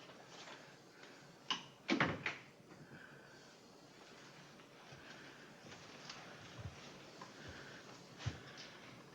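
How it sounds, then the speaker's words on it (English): An interior door swings shut in a 1956 Western scene, landing as a couple of sharp knocks close together, followed by faint creaks and light movement in a quiet room. "Close the door, Sigurd."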